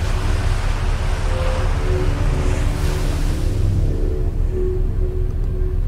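Waves wash and surge steadily on an alien planet's shore in the space exploration game Outer Wilds, a continuous loud roar of surf with a low rumble underneath and no talking.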